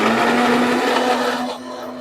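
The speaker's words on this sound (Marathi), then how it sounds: "मिक्सर लावलेलं आहे." A kitchen mixer grinder blending masala for matar paneer gravy whirs loudly and steadily at close range with a strong motor hum, then drops to a lower tone as it slows near the end.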